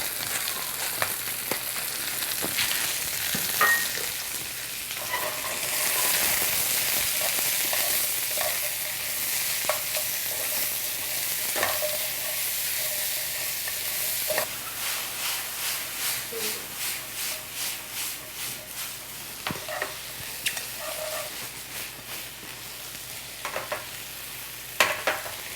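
Onions and mushrooms frying in a hot pan for a steak dinner, giving a steady close sizzle with occasional scraping and stirring clicks, no talking.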